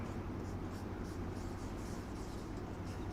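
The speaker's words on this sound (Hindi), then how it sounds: "चलो अब लिखते हैं यहां पर" Chalk or marker writing on a classroom board during a maths lecture, a steady scratchy rustle sitting low under constant room hiss, with no distinct strokes standing out and no talking.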